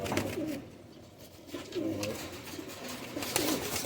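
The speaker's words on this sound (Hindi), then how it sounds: "ये देसी कबूतर है, मादी है।" A desi pigeon hen and loft birds give low cooing phrases roughly once or twice a second, close by, over a steady murmur of background noise.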